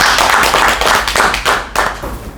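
An audience bursts into clapping ahead of a special lecture on COVID-19 and Korea's pandemic response, a dense, steady patter of many hands, close and loud, with a few sharper accents near the end.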